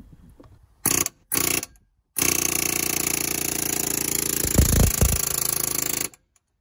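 A Snap-on air hammer fed by a small Harbor Freight 3-gallon compressor fires in two short loud bursts, then hammers continuously for about four seconds with a few sharp impacts near the end, close and alone.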